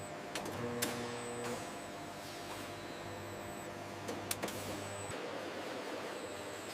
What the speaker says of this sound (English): Heat sealing closes each pouch securely.